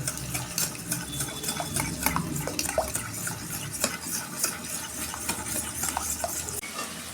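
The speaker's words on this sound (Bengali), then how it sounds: "এই যে হাফ বাটির একটু কম আমি টক দই নিয়েছি। এইটাকে আমি ভালো করে ফেটে নেব।" Sour yogurt being whisked briskly in a bowl for doi katla, with steady rhythmic stirring and scraping clicks running close and continuous throughout, no voices.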